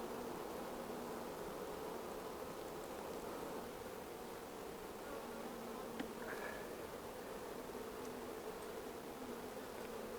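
Honey bees hum in a dense, even drone from an opened hive during an inspection, a steady close buzz with no talk.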